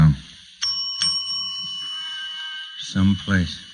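A doorbell at the Westover Hotel rings twice in quick succession, a bright sustained tone that fades slowly, followed by a voice in an old radio drama scene.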